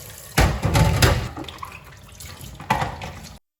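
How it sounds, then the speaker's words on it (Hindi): Running water from a kitchen tap while dishes are washed, with splashing bursts near the start and again toward the end before it cuts off. "यहाँ पे मैं बर्तन वॉश कर रही हूँ"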